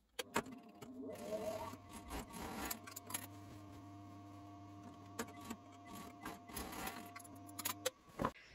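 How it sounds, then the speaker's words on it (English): An overlocker stitches along lined curtain fabric, giving a quiet, steady mechanical whir with a low hum and occasional clicks and rattles of the machine running. "I'm just going to overlock back to there"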